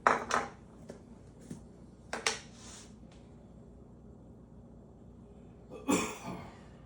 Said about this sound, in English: If I can get it scooped out here with our little mini mix and scrape.